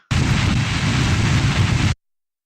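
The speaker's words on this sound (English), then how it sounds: "Stage the engines that are going to be used for the transfer and the launch." Rocket engines ignite at staging in Kerbal Space Program, a dense, steady roar with heavy low rumble that bursts in abruptly, holds loud for nearly two seconds and cuts off sharply into silence.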